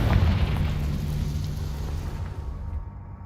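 A Confringo explosive spell blast in Hogwarts Legacy: one deep, rumbling boom at the start that decays into a fading roar and falls silent near the end.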